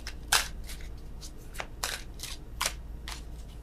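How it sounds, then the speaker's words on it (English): Tarot cards are shuffled by hand, giving soft, quick riffling bursts that repeat irregularly over a low background hum, close and quiet with no speech. "worst shuffling in the world"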